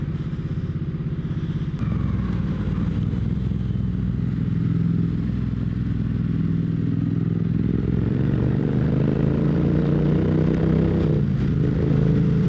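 A motorcycle fitted with progressive fork springs and fully wound-out preload adjusters rumbles along loud and close, its engine droning steadily with rising and falling pitch, mixed with wind buffeting and occasional clatter.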